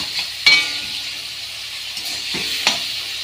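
Ground spice paste fries in a pan for an egg curry with potato and pointed gourd: a steady close sizzle with a few sharp clinks and scrapes as it is stirred.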